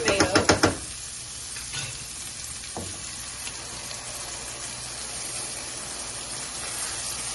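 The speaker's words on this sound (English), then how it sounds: "And now we add our tomatoes." Canned tomatoes tumble into a jambalaya pot with a short burst of wet splashing and knocking at the start, then a quiet, steady simmer and faint sizzle carry on, broken by a single soft knock.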